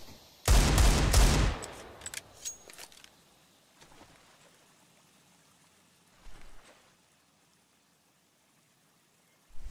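Gunfire in Counter-Strike: Global Offensive during a tense competitive round, a dense loud volley near the start followed by a few scattered quieter shots and impacts, with a sharp single shot at the end.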